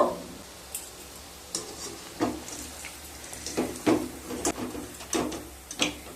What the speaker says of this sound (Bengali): যখন প্রায় ব্রাউন কালার হয়ে আসবে তখন স্টিমটাকে লো করে ভাজতে হবে